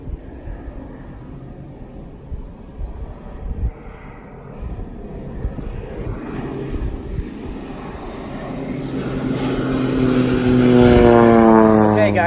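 A crop-spraying airplane flies over a corn field, its propeller engine drone building from a distant hum to a loud, close roar as it passes overhead, with faint voices or wind noise earlier.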